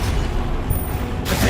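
Confringo blasting spell from Hogwarts Legacy erupting in a loud, rumbling explosion that roars continuously, with a fresh burst of crackling blast noise at the very end.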